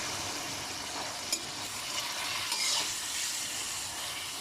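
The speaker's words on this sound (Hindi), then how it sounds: "अभी मैं इसको मुसलसल फ्राई कर रही हूँ और साथ में चलाती भी जा रही हूँ चम्मच, ताकि जो हमारा चिकन है वो हर तरफ से फ्राई हो।" Chicken frying in ghee, stirred steadily with a spoon, gives a continuous close sizzle with soft scraping strokes and a few light clicks of the spoon against the pan.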